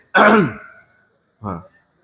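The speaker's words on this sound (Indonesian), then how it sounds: "kok ono sing dehem?" One person clears their throat loudly and closely, followed after a pause by a shorter, softer second throat clearing, with quiet between.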